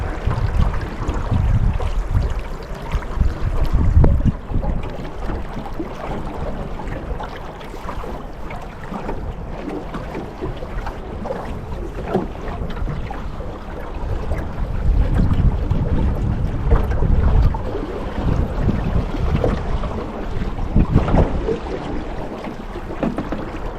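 A sailboat moves across Joes Pond in Vermont, with continuous wind rushing over the microphone and soft water wash. The roar swells and eases, with no talk.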